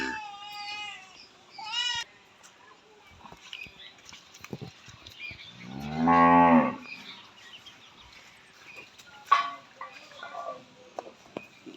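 A dairy cow in milk, ten days after calving, gives one loud, deep, drawn-out moo in the middle, with quieter animal calls and farmyard noise around it.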